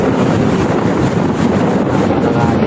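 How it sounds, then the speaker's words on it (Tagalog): Strong wind roars across the microphone at Bagasbas beach in Camarines Norte, a loud, steady buffeting rush that fills the whole clip with broadband noise and low gusty rumble. "Lakas ng hangin dito."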